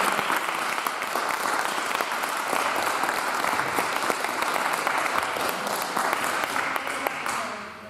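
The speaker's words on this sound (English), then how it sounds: "these two brave, journalists sitting here tonight deserve a huge round of applause for them" Sustained, dense audience applause fills a forum hall for two journalists, loud and continuous for several seconds with voices mixed in, then fading at the end.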